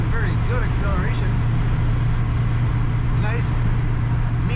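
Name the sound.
1955 Chevrolet 3100 pickup exhaust while driving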